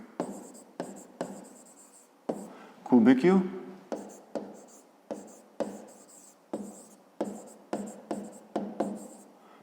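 A pen writes on paper in short repeated strokes, scratchy bursts in a steady rhythm close to the microphone, with a voice speaking briefly in the middle.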